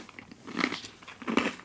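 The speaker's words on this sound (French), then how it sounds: "Ouais, il croustille beaucoup, celui-là." A crunchy sour cream and garlic flavoured snack is bitten and chewed up close, giving two bursts of crisp crackling with quieter chewing between, no talk.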